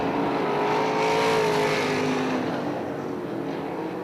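A pack of 360 sprint cars races around Crystal Motor Speedway, their engines droning loud and steady throughout with a shifting roar as they pass, and no voices over them.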